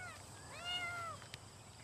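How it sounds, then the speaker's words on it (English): A cat meows once in a single drawn-out, rising and falling cry, fairly close, over a low steady background hum with no talking. "Is that a cat in there?"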